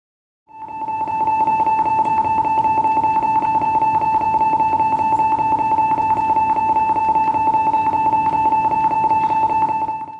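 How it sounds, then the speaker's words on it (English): A school lockdown alarm sounds over the PA system as a loud, continuous electronic tone with a fast pulsing flutter, starting abruptly after a moment of silence and holding steady until it cuts off. "A hard lockdown is initiated by an alarm sound over the PA system"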